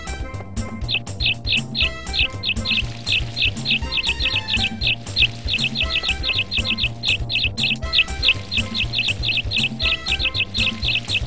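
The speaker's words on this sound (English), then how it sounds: "Man, those birds will just not shut up!" Steady, rapid bird chirps from Harvest Moon 64 repeat in quick bursts over a looping background music track, bright and persistent throughout with no pauses.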